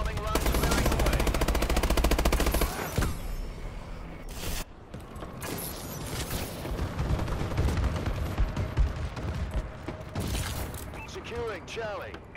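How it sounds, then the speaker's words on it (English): Call of Duty Advanced Warfare multiplayer battle, with rapid machine-gun fire and booming explosions from a friendly bombing run continuing throughout, loud and dense, under game announcer voice lines. "Friendly bombing run clearing the way."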